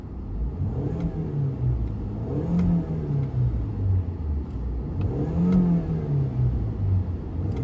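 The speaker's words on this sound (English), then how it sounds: "Let's give it a little rev." An Audi A3 engine, warmed up after sitting unused for about ten years, revved twice, each rev rising and falling over a steady idle rumble, close and fairly quiet, with no talk.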